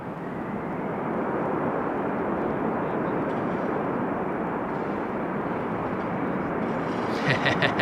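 A jet airliner lands at Amsterdam Schiphol in showery weather using idle reverse thrust, a loud, steady broadband engine roar that holds throughout and rises slightly at the end, with a voice faintly audible.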